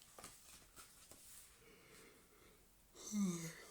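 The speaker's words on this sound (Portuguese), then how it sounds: "Outro bocejo." A person yawns close by, a soft, drawn-out breathy exhale with a faint voiced tail at the end, following quiet breathing.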